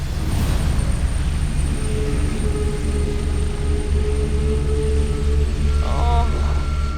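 Loud, steady engine and rotor drone fills the cabin throughout, a constant low roar with a faint high whine above it.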